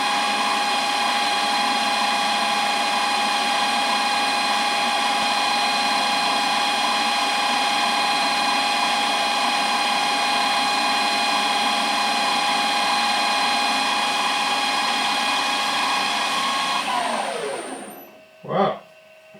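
A metal lathe runs at speed taking a half-millimetre finishing cut, a steady mechanical whine with tonal harmonics that spins down near the end, followed by a short thump.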